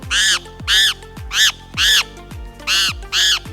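Harsh, raspy calls of a hook-billed parrot being handled, six loud squawks in a steady rhythm, each a short grating burst, very close with handling noise between.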